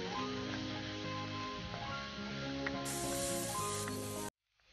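Stew ingredients sautéing in a pan on a stovetop, a continuous loud sizzle and hiss close up, steady for a few seconds before cutting off abruptly.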